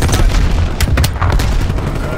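A frag grenade goes off in Call of Duty: Black Ops Cold War Hardpoint play, a loud booming blast layered with dense gunfire and rumbling explosions over a couple of seconds.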